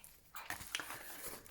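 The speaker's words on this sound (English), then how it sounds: "And I'm sorry if you can hear Boo slurping a gallon of water in the background there." A dog laps and slurps water nearby, with wet, rhythmic tongue sounds and small splashes continuing throughout.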